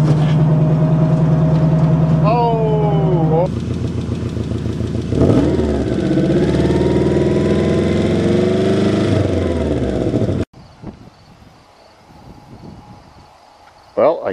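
A Honda off-road vehicle's small engine running and revving loudly for about ten seconds, pitch rising and falling, then cutting out to quieter outdoor background.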